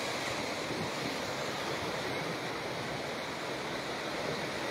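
Surf at Pangandaran East Beach washes in as a steady, dense roar of breaking waves, with wind buffeting the microphone and no talk over it.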